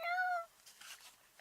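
A person imitates a cat with one drawn-out, fairly soft meow that fades out, followed by light rustling.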